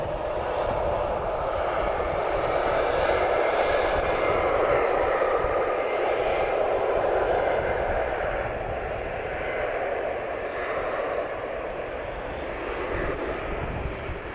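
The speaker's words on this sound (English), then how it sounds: "Star Air is taxiing" A Star Air airplane taxis at Lisbon Airport, producing a steady, fairly distant engine roar and whine that lasts throughout with only slow swells in loudness.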